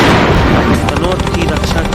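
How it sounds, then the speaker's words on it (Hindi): Heavy booming bursts of enemy artillery fire on the Indian Army front at Tanot in 1965, loud and dense with rumbling low end, crowding together over about two seconds. "दुश्मन के तोपखाने जबरदस्त।"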